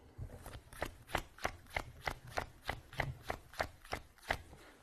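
Playing cards are shuffled by hand during a card trick, an overhand shuffle giving a steady run of about a dozen crisp slaps, evenly spaced and close.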